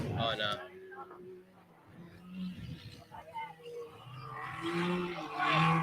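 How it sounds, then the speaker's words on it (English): A trophy truck at an off-road race, the Don River Dash, roars past with a rough, swelling engine growl that builds loudest at the end, under and between voices talking. "our trophy truck's just come back through. Listen to the roar of that."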